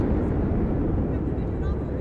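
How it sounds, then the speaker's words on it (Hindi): A formation of one Mi-35 leading four Apache helicopters flies over the Republic Day Parade, a loud, steady, deep rotor and engine rumble filling the air, with a voice talking over it. "एक MI-35 की अगुवाई और पीछे 4 अपाचे हेलीकॉप्टर्स।"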